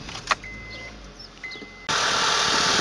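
A car engine turns over with a short crank and catches, then settles into a loud, steady idle after a few quiet seconds with small clicks and beeps.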